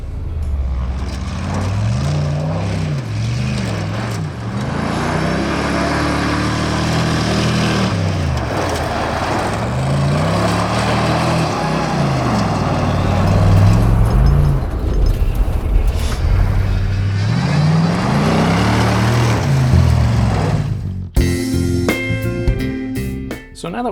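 A Chevrolet C10 pickup truck spins donuts, its engine revving up and down in repeated swelling cycles for over twenty seconds, loud and close, before cutting off abruptly at the end.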